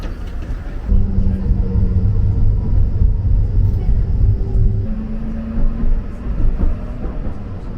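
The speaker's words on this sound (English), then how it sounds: "definitely a good decision taking the Straßenbahn or the tram" Tram ride through Dresden: a steady low rumble of the rolling Straßenbahn with faint tonal motor whine rising and shifting, continuous and close, with some quiet voices in the car.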